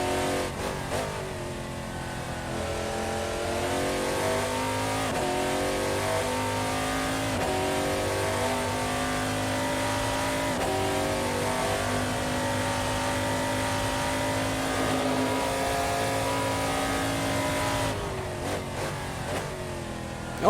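A race car engine from an Assetto Corsa ELMS race at Monza roars steadily, its pitch climbing and dropping through repeated upshifts and braking, loud and continuous for about twenty seconds with no talk.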